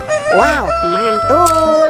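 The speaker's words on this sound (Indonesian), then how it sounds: "Tuh, ada ayam berkokok." A rooster crows loudly and close in a children's animal game, two rising and falling calls, with a person briefly speaking over them.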